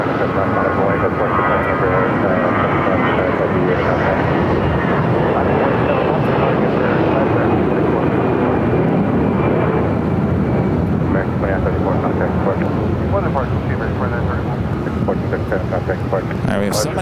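Airliner engines roaring steadily during takeoff from a runway at Phoenix airport, loud and continuous throughout, with radio chatter and voices faintly under the rumble.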